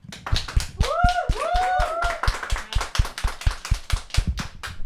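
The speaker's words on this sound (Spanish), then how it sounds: "Así que terminamos esta temática con un fuerte aplauso." An audience claps in a strong, evenly spaced rhythm of sharp hand claps, with a few brief whistle-like tones rising over the beat early on.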